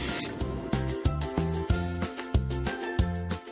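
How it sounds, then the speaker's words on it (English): Pan spray is misted over a muffin tin to coat each round in a home kitchen, a steady hiss broken into short repeated bursts about twice a second, close and fairly quiet. "First, we're gonna prepare our muffin tins using pan spray and your muffin tin."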